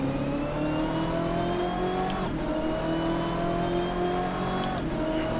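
Race cars in the Assetto Corsa racing game with the SOL mod, on the Road Atlanta circuit, whine steadily through their gears as they approach, with shifts near two and five seconds. No one speaks.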